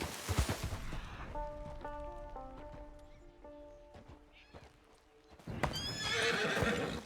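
In Red Dead Redemption II, a horse's hooves pound in a quick gallop, then a long, clear whinny rings out before the galloping hoofbeats return louder at the end.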